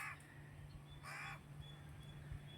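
Crows and sparrows call in a home garden, with a couple of short, distant caws and faint chirps over a low, steady background hum and no talking.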